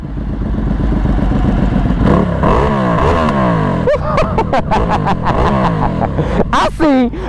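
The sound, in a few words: sportbike engine revving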